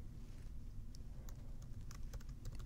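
A computer keyboard taps out code, with quiet, irregular clicks of individual keystrokes against a low, steady background, no voice.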